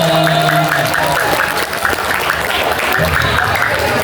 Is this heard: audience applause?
yes